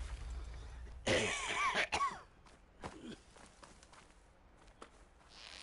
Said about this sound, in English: Sorry guys about coughing